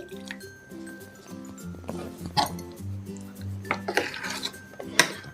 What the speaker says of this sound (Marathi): हे रवीच्या सायाने मी घोटून घेते